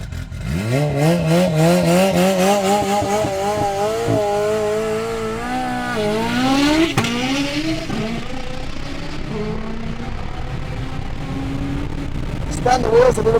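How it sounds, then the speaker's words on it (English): A Hyundai IONIQ 6 N launching in a roll race, its synthetic engine tone climbing in steps while the wheels spin off the line, loud and close, with talking over it. "Spun the wheels a little bit off the line there"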